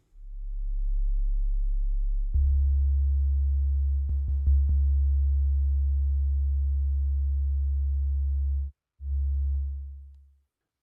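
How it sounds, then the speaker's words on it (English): A sine wave oscillator on a Cherry Audio GX-80 synthesizer holds a steady, pure low tone that steps up in pitch, gains a few faint clicks, and cuts out briefly before resuming and fading. "And then we have the sine wave."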